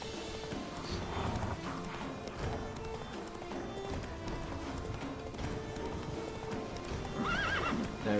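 Hoofbeats of a horse galloping in The Witcher 3 fill the scene, a continuous fast clip-clop with a whinny or neigh rising near the end, loud and close over game ambience.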